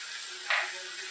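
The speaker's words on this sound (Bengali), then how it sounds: "এবার আদা রসুনের পেস্টটা দিচ্ছি" Ginger-garlic paste hits hot oil in a pan for a Bengali paneer masala, giving a single short burst of sizzle over a low, steady frying hiss.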